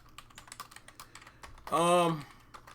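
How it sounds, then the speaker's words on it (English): Rapid clicking of keys being typed on a computer keyboard, a steady patter of close taps through the clip, briefly interrupted by a loud harmonic tonal burst in the middle. "as you guys can see, I'm looking at that thing because I'm typing"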